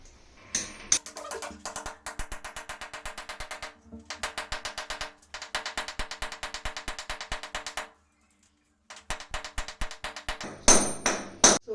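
Someone hammers an anchor bolt into a wall indoors: several rapid bursts of close, sharp metallic hammer blows in even rhythm, separated by short pauses and one longer gap.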